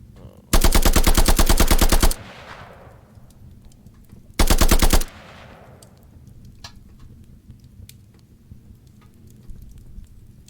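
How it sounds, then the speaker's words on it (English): Automatic gunfire in a video game rips out in two loud, rapid bursts, a long one and then a short one, followed by quieter stretches with faint clicks that may be reloading. "I do have reloading even while aiming."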